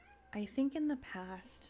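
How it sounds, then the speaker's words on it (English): A pet cat meows in the background in a few short, fairly clear calls, overlapping a person speaking close to the microphone. "Sorry if you hear my cat in the background."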